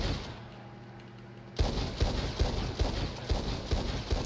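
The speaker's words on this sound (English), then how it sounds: "So get a gun and just start shooting your horse." In Red Dead Online, a horse's hooves clip-clop in a steady rhythm after a quiet start, with repeated sharp impacts that fit gunshots fired at it, fairly close and loud.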